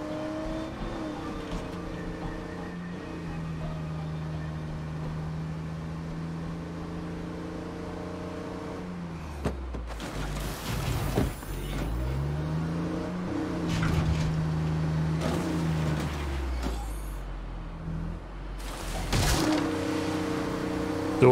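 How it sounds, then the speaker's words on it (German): A car in State of Decay 2 drives along, its engine humming steadily, then revving and lurching in surges and bursts as it slides and loses grip, fairly loud with no talk. "Alter, die Karre bricht so aus"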